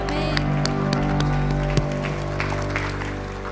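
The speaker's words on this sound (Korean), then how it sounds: "가장 큰 영광의 박수를 올려드리겠습니다" A church congregation claps during a Wednesday worship service, a short steady round of applause with a sustained organ or keyboard tone ringing underneath and no break in the sound.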